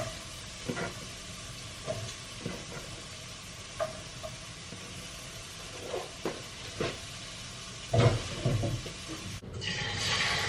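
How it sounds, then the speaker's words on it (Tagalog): Ginger, garlic and onion sautéing in a pan: a steady hiss of hot oil with intermittent scraping and stirring knocks, moderately close, and a brief louder burst near the end as more goes in. "Igisa ko muna yan, luya, garlic."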